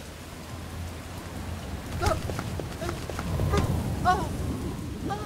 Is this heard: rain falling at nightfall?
yes